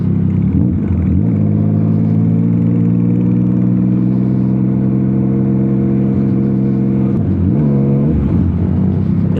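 Yamaha MT-09 SP inline-three motorcycle engine with an Austin Racing full titanium exhaust system revving loudly and steadily up close, with a brief dip and rise in pitch near the end; no talking.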